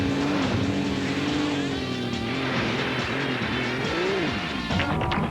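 Continuous engine whine and wavering tire screech from Sega GT racing gameplay, loud and unbroken for several seconds with no voices.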